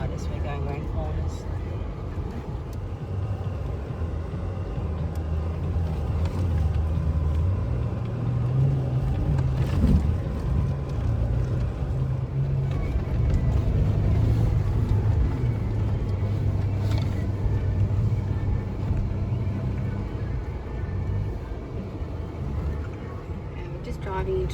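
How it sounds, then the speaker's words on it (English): A vehicle grinds slowly through soft deep sand on a forest track, its engine a steady low rumble beneath the tyres' shuffle, heard from inside the cabin while people talk over it. "The sand is very soft. I feel the vehicle sliding to the side as we're going around corners."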